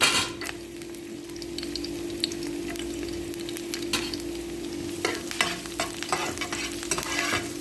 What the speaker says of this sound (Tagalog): Halu-haluin lang natin hanggang sa mag-brown yung bawang